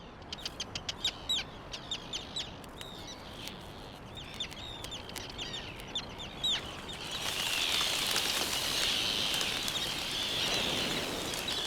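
Seabirds at a volcanic island breeding colony give a quick run of sharp, repeated calls, fairly near. A steady, louder rush of wind or surf then takes over in the second half.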